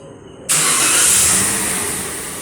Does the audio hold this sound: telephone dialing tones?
no